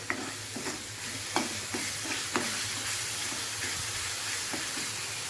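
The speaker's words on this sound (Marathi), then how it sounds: "तेल सुटेपर्यंत चांगलं परतून घ्यायचं, म्हणजे कच्च्या लसणाचा वास येत नाही." Masala sizzles and fries in oil in a pan over a medium flame, a close steady hiss broken by occasional stirring scrapes and soft pops, with no voices.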